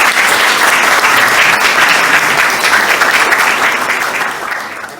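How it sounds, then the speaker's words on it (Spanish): Sustained applause from an audience at a televised Spanish-language event, steady and loud for several seconds before tapering off near the end, with no voices on top. "un aplauso para Álvaro"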